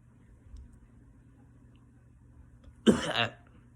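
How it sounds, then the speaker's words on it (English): A single short, harsh cough breaks out after a few seconds of quiet, with a low engine hum steady underneath. "I had a little cough there"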